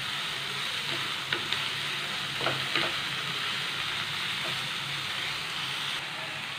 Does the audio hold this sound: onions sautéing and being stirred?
yes